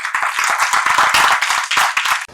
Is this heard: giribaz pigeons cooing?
no